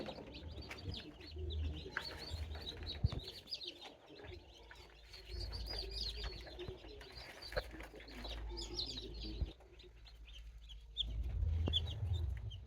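Baby chicks in a brooder warmed by heat lamps chirp in faint scattered peeps over a low background hum, with no talking.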